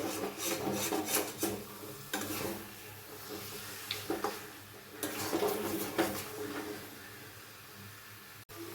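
Murgh musallam masala sizzles and scrapes in a pot as a spatula rubs and stirs it steadily, with a busy rasping texture and occasional clinks against the metal.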